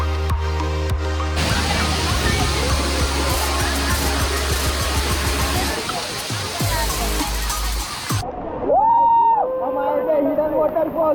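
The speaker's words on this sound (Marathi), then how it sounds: "तर हिडन वॉटरफॉलचं दृश्य दाखवतो तुम्हाला कसं सुंदर आहे." A hidden milky waterfall near Mumbai roars with a steady, loud rush of falling water, and voices talk over it near the end.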